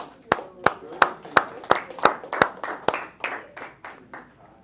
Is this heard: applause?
yes